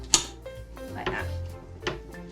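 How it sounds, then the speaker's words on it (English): A fork mashes sliced banana against a dish in a kitchen, giving a sharp scrape at the start, then soft squelching presses and another clink near the end, close and fairly quiet. "we're going to mash it with our fork like"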